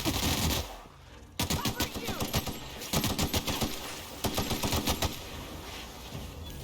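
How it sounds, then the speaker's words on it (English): Rapid gunfire from The Outer Worlds punching through a box, loud close bursts of quick repeated shots in several strings separated by short pauses. "shooting right through that box"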